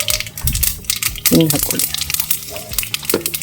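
Mustard and spices splutter and crackle in hot oil for a tempering, crisp popping and sizzling throughout with a loud burst in the middle, while a person talks over it.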